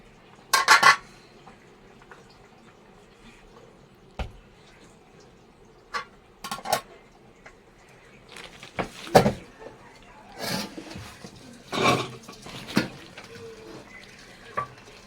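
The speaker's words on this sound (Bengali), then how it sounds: "এখন ভাতের মাঠটা ফেলে নেব" Rice is drained of its starchy water after cooking while a cooking pot and utensils are handled in a home kitchen. Sparse metallic clanks and knocks sound over a quiet background, with a soft wash of pouring water in between.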